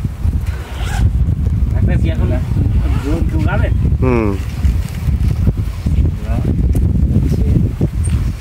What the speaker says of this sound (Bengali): এখানে তো অনেক বাতাস।